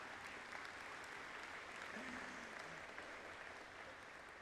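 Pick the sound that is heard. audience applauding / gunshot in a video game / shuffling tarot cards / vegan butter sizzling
audience applauding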